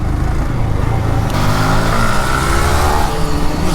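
A motorbike doing a wheelie revs hard and close. The engine holds a loud, buzzing drone, and its pitch climbs partway through.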